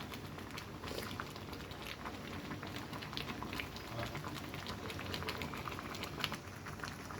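Egg lentil dal bubbling steadily in a pot, a continuous close simmering patter with tiny pops and no voices.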